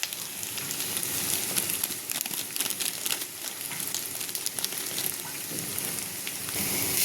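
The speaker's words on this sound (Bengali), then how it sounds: "আলুটাও দিয়ে দেবো, একসাথে ভেজে নেব।" Potatoes and garlic frying in a pan with turmeric, chili powder and chaat masala, a steady close-up sizzle with bright crackling spatter and occasional stirring.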